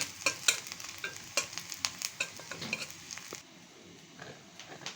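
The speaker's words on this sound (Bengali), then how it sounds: "মরিচটার পেস্টটা ভাজা হয়ে গেছে।" Chili paste frying in a pan while a spoon stirs it, soft sizzling under sharp scraping ticks in an irregular rhythm, close and fairly quiet, fading to a gentle hiss near the end.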